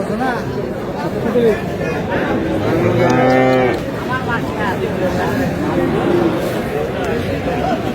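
Cattle at a cattle market, Sahiwal breed, give one clear drawn-out moo in the middle, with other fainter lows around it and constant crowd chatter and voices throughout.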